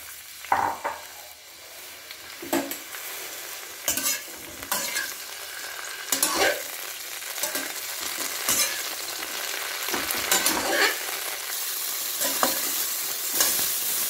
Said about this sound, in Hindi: इसमें हम अब ब्रोकली डालेंगे और इसको सेमी फ्राई कर लेंगे